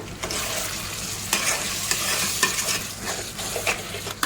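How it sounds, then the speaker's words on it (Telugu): Grated tomatoes being stirred and fried in a pan, a continuous sizzle broken by sharp scraping strokes of the spoon at irregular intervals, close up with no voices. "దీన్ని కూడా బాగా కలుపుకొని ఫ్రై చేసుకోవాలన్నమాట"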